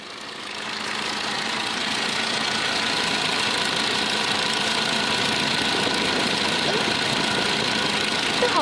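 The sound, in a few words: car engine abnormal noise from wobbling fan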